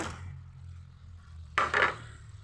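Chapila fish dropped into a pot of sour green mango curry, a quiet simmering murmur followed by a sudden splash and a scraping stir of a spoon against the pot, close and brief.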